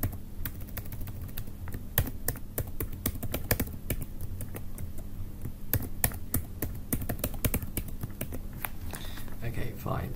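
Rapid computer keyboard typing as a password is entered, a steady close stream of small clicks that runs the whole time with no pauses.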